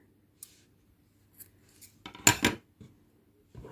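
Scissors snip through crochet yarn while an amigurumi dog is being made. Faint clicks are followed by one loud, close cut with a crisp rasping sound, then a few quieter handling noises.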